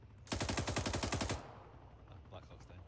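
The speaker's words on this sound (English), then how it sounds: "they're shooting at us now" Rapid automatic gunfire from a firefight in the military video game Arma 3, a loud sustained burst of about one second, then fading to quieter background battle noise.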